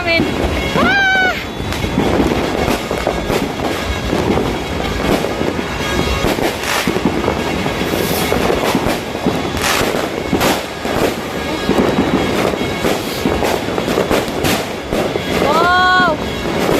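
New Year fireworks going off behind a house, a dense, continuous barrage of crackling bursts and booming pops lasting throughout, loud and fairly close, with excited voices exclaiming at the start and end.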